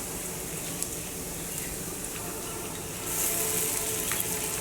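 Hand-torn pieces of cooked meat dropped into a pan of softened onions, giving a steady loud sizzle with faint stirring crackles that grows noticeably louder and brighter partway through.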